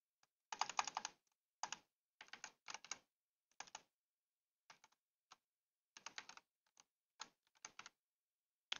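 Fingers type a username on a computer keyboard in close, crisp bursts of key clicks. Short pauses separate the bursts, and no other sound competes with the typing.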